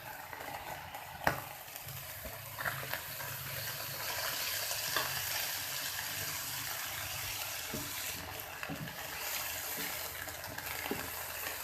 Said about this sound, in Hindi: गाजर डालेंगे, बिस्मिल्लाह। साथ ही आलू भी डाल देंगे।